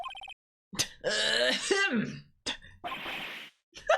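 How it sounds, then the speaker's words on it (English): A drawn-out, gravelly throat clearing from the Ace Attorney Trilogy game, followed by a short cough-like grunt and a breathy rasp, close and loud against silence. "Maybe I should clear my throat?"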